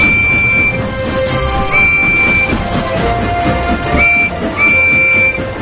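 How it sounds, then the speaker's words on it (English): A toy steam engine's whistle sounds several times in short, clear toots over a busy mechanical rattle and clatter in the background. "Percy's whistle is louder."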